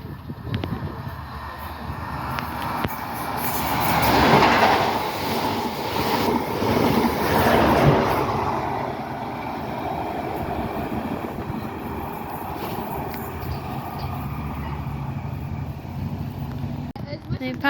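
A train passes through Starcross station on platform 2 in Devon, a loud, sustained rushing roar that swells and then holds steady, mixed with wind buffeting on the microphone.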